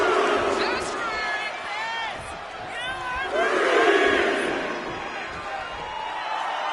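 Arena crowd in a WWE wrestling video game roars and cheers during a match involving Randy Orton, swelling and dipping throughout while a commentator talks over it.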